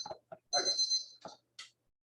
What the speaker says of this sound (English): timer has gone off